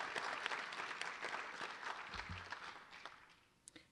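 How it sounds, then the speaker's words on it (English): An audience applauds at a design awards panel event in Detroit, a dense, sustained wash of clapping that carries on for several seconds, then thins and fades toward the end with a few last claps. "A big round of applause to all of you."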